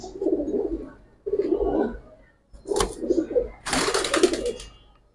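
Kagji Chuita pigeons cooing up close in four soft, throaty bursts separated by brief pauses, with some wing flutter or rustling noise over the later calls.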